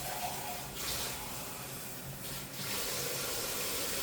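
Water pours steadily into a soup pot for a shrimp soup, a continuous close splashing hiss with no talking.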